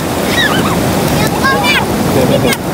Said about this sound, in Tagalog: Lakas ng alon, ayaw ko maligo.